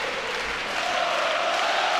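Crowd cheering at the start of a women's race at the Meridian Regional, a continuous dense roar with no breaks.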